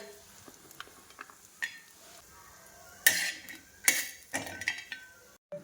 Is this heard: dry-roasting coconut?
yes